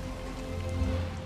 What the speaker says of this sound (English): Feel the rain on your skin.